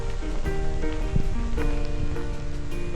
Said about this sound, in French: là, ouais, la pluie, c'est un crescendo assez intense